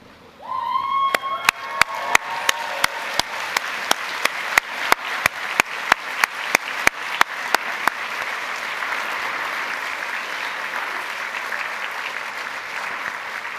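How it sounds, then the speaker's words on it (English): Graduates applaud at a 2017 Perth College UHI graduation ceremony. A few sharp, separate claps build quickly into a dense, sustained round of applause from a large hall crowd, with no talking over it. "give a round of applause to the staff, loved ones who helped to get to this very special day"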